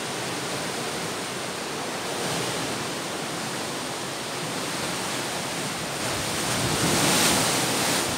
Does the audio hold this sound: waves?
yes